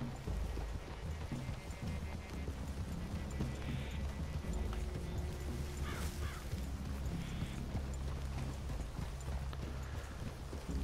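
Horses walk through a clearing in Red Dead Redemption 2. Their hooves clop softly under a steady bed of wind and ambient noise, with a brief whinny and a few sharper knocks partway through.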